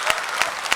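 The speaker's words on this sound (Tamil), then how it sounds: "இந்த ஃபோரம் முழுத்துக்குமே நீங்கள் ஒரு பெரிய கைத்தட்டலை கொடுக்கலாம்" Applause from a forum audience, a dense close patter of hand claps with a few sharper louder claps, steady through the short stretch and not mixed with talk.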